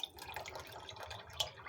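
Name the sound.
water being poured into beaten yogurt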